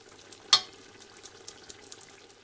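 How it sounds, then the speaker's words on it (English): Raisins dropped into a pot of Kabuli Palou with carrots frying in it, giving one sharp sizzling hit over a faint, steady crackle of frying. "Add the raisins."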